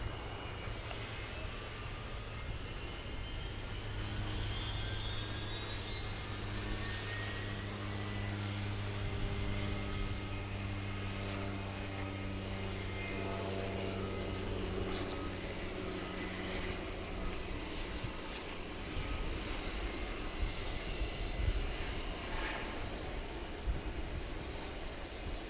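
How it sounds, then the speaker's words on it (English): A UPS Boeing 757 departs DFW Airport at night, its jet engines a steady, fairly distant roar that builds and holds for the whole stretch over faint background noise. "we've got an imminent departure of a UPS 757 to Chicago Rockford International Airport"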